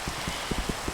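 Rain in the video game Minecraft: a dense, steady hiss with faint scattered low patters of drops, unbroken throughout, with no talk.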